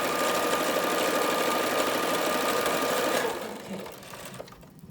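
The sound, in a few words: sewing machine stitching fabric face mask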